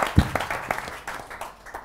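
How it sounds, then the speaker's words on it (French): Audience applause for a school semi-final between Cours Sainte-Marie de Hann and Nouveau Lycée de Louga, a burst of clapping that quickly thins to scattered claps and a fading patter. "On les applaudit très fort."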